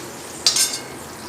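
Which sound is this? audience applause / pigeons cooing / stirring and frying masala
stirring and frying masala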